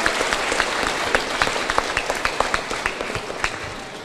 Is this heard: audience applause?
yes